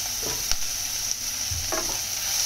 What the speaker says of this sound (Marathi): तेलात आपण वाटप मस्त भाजून घेऊया.